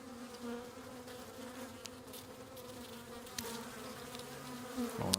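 Honey bees from a newly installed package hum in a steady close drone, the buzzing continuous with a few brief louder swells and small knocks.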